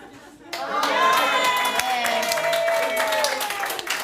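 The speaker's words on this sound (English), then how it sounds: "And we applaud you" A live audience applauds, with dense clapping that swells after a quiet start and stays strong, mixed with some cheering and voices from the crowd.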